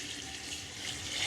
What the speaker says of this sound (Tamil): நாங்கள் இந்த கடலை அவியறதுக்கு கடலைண்ட மட்டத்தோட தண்ணி சேர்ப்போம்.